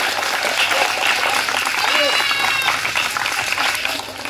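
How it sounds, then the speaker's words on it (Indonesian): An audience claps for their teachers at an Indonesian religious talk in Sukabumi, a steady, loud wash of applause that fades slightly at the end. "Tepuk tangan untuk guru-guru kita."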